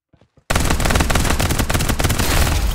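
Dense automatic gunfire in the battle royale shooter Farlight 84 bursts in after a few faint taps and keeps up loud, rapid and unbroken, with no talk over it.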